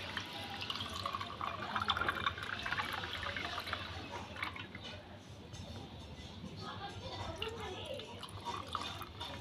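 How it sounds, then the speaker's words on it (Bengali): Lemon water trickles through a strainer into a glass holding ice cubes, a continuous close splashing and dripping under a person talking. "যে লেবুর জলটা করে রেখেছিলাম ছেঁকনির সাহায্যে ছেঁকে দিয়ে দেব।"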